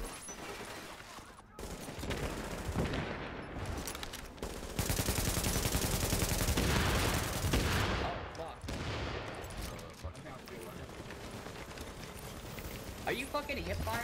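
Dense bursts of automatic weapon fire from hip firing in the video game The Division, a continuous loud rattle of overlapping shots with brief gaps, mixed with voices talking over it.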